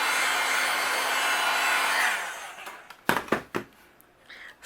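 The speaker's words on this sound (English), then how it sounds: "I'm going to go over my image and my sentiments with my heat gun" A heat gun blows a steady broadband whoosh for about two seconds as it dries a stamped paper image, then cuts off, followed by a few sharp clicks and handling knocks.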